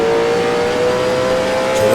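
A 1966 Can-Am race car engine in the Grand Prix Legends racing game, at Bridgehampton, holds a loud, steady high-revving drone with a sustained tonal whine throughout, rising slightly near the end as it shifts up to fourth gear.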